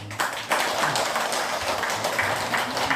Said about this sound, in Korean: 박수 한번 다시 한번 보내주시고